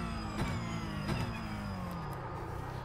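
A car engine in a racing simulator game revs and drones steadily, its pitch sliding gradually lower across the clip with a couple of brief transient bumps.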